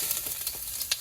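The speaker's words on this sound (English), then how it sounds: "Yeah, it's sizzling. Yeah, sizzling." Ginger and Sichuan peppercorns sizzle in hot oil in a wok, a steady close crackle with bright spits of frying and no voices.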